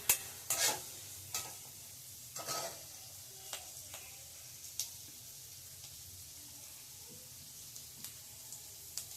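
Ginger and garlic, salted and browning, fry quietly in a pan: a faint, even sizzle broken by a few sharp spatula clicks and scrapes near the start, with no talking.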